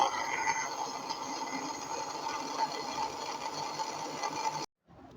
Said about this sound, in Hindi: अब हम इसको अच्छे तरीके से 2 मिनट ग्राइंड करेंगे जूसर में।